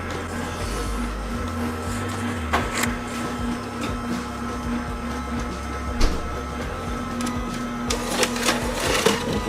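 An Orfeld slow masticating juicer grinds steadily with a low motor hum and faint irregular crunching and clicking as produce is pressed, loud and continuous throughout.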